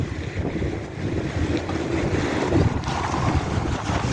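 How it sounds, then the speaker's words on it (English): A gust of wind buffets an outdoor microphone in Prince George's County, Maryland, just after a storm, giving a loud continuous rumbling roar that swells and drops throughout. "A gust of wind just came from somewhere, man."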